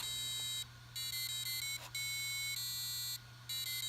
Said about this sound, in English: it will complete the circuit for the piezo buzzer to connect to ground, playing a sound